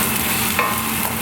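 Garlic sweats in hot oil in a pan, producing a loud, close, continuous sizzle with one small crackle partway through and no talking.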